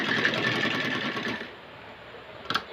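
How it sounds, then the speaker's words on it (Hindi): A sewing machine runs a continuous close stitching burst while sewing a kurti-style top, then stops after about a second and a half, leaving quiet with a brief clatter at the end. "फिर हम इसको स्टिच करेंगे"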